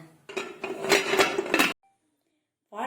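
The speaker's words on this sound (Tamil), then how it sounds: "இப்போ நம்ம மறுபடியும் வந்து குக்கர் மூடியை போட்டு மூடி வச்சிடலாங்க" A pressure cooker lid is set down and closed over a rava cake, giving a run of loud metallic clanks and rattles lasting about a second and a half, followed by silence and a brief sound at the end.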